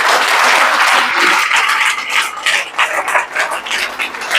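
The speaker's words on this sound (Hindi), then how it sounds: "ताली बजा, स्कूटी लिए" Audience applause at an RCM business motivational seminar: dense, steady clapping from a large crowd that stays loud, then thins into more scattered claps toward the end.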